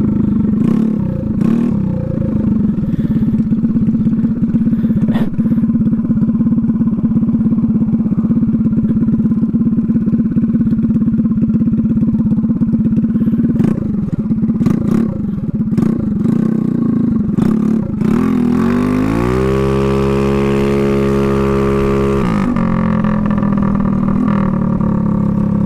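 A drag scooter engine runs loud and close, churning steadily near idle, then revs hard at half throttle in one rising burst before dropping back to a rough, rattling idle.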